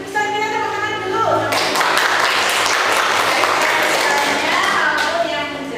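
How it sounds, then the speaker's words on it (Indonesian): Classroom audience bursts into brisk, loud clapping after a short stretch of speech, the applause continuing steadily and tapering slightly at the end. "bisa kita tepuk tangan dulu"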